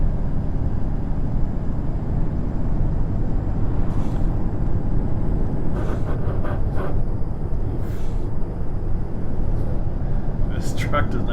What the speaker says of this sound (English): This truck does not sound good.